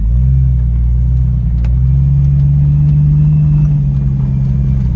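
A 1999 Jeep Cherokee with the 4.0 engine driving in first gear, a loud, steady low engine drone and road rumble close by, the pitch rising slightly as it pulls, with no talking.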